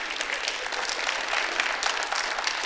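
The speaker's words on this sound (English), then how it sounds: "Let's give them a round of applause." Audience applause fills the room, a steady dense wash of clapping at close range, with no talking over it.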